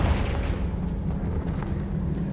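A Confringo blasting spell detonates in the video game Hogwarts Legacy, a deep, heavy rumbling boom that fills the whole moment loudly and continuously.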